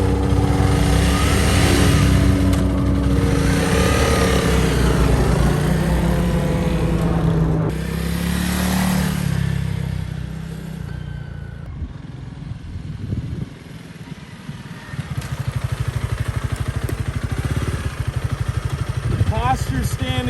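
A 2021 Honda CRF300L Rally motorcycle ridden with the rider standing, its mid-pitched engine droning steadily and loud throughout while someone talks over it, the engine note dipping briefly midway before picking back up.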